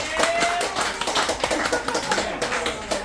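Audience at a stand-up comedy show claps in a brief, scattered burst of applause, fairly close and uneven, with no talking over it.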